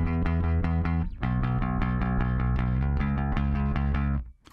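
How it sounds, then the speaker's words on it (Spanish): Cheap bass guitar recorded direct with a transformer distortion effect switched on, playing a riff of sustained, harmonically rich notes with gritty overtones, loud and upfront, then stopping abruptly near the end. "encima nos da esa distorsión de los transformadores, esos armónicos extra"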